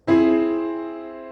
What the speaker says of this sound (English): then of course we have the augmented triad,